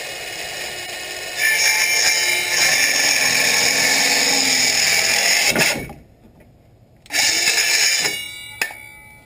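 A power tool cuts wooden stud pieces for an off-grid cabin build, a loud steady whine running for several seconds, stopping briefly, then resuming with a short final burst and a sharp knock at the end.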